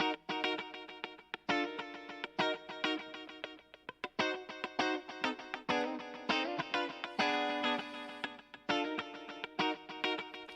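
Electric guitar played through a Timeless 3 delay effect on iOS plays choppy, distorted chords and notes with echoing repeats trailing after each strum, fairly loud with no talking.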